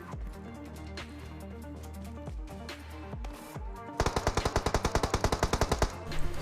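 Gunfire from PUBG Mobile, a game: sporadic shots over steady game music, then a loud rapid burst of about fifteen evenly spaced automatic rounds.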